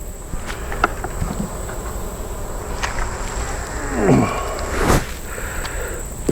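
Honeybees buzz steadily around an open hive during an inspection, a dense close drone with a few louder swoops as individual bees pass near.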